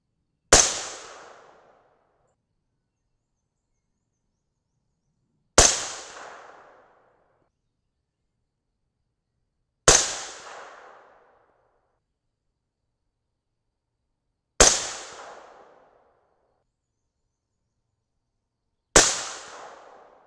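.223 Rem rifle firing 77gr Sierra MatchKing loads over 23.5 grains of VihtaVuori N140: five sharp loud shots spaced roughly five seconds apart, each with a short decaying tail, with silence in between.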